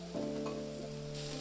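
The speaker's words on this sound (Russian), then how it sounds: "Все хорошо перемешиваем, жарим на умеренном огне минуту." Carrots and onions with coriander, ground black pepper and Korean gochugaru red pepper frying over moderate heat while being stirred in a pan, a steady close sizzle with a faint tonal hum beneath.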